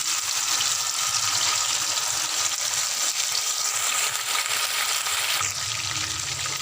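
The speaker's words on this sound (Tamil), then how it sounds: "பாருங்கள், மீன் கடாயில் போடுறேன்." Marinated fish frying in oil in a kadai, a steady close hiss and crackle that runs throughout with no talk, brightening slightly near the end.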